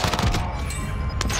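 Video game gunfire during a tense online match with suspected cheaters: dense, continuous crackle of shots and impacts fills the short stretch, near and loud, with a sharp burst near the end and no clear talk.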